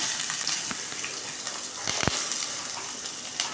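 Onions, green chillies and curry leaves frying in hot oil in a pan give a steady close sizzle, broken by a couple of sharp crackling bursts near the middle, with no voices.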